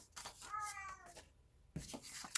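A cat lets out a loud, drawn-out meow with a wavering pitch, then a shorter second yowl after a brief pause, close and indoors, with no talking over it.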